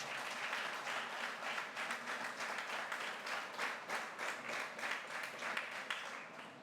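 An audience applauds a speaker, Kitty, at a Rotary club event in Tiruppur, a steady wash of many hands clapping that holds for several seconds and tapers slightly at the end, heard from within the hall.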